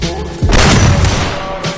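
A gunshot lands a headshot in the Free Fire video game, a loud booming blast with a rumbling tail that lingers for over a second before a smaller thump near the end.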